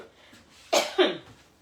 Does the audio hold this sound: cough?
yes